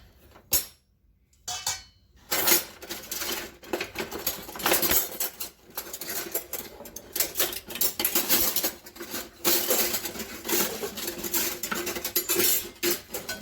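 Cutlery rattling and clinking in a kitchen while a slotted spoon is fetched, with busy close metallic clatter in bursts after a couple of quiet gaps at the start.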